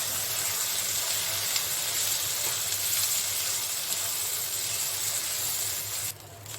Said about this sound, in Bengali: আমরা এখন এটাকেও আবার কিছু সময় ধরে একটু ভেজে নেব।